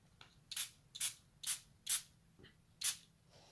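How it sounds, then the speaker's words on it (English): Five quick hissing spray bursts from a trigger bottle onto a model coal load in a workshop, evenly spaced, close and fairly soft, with a faint hum beneath. "Give it a good spray."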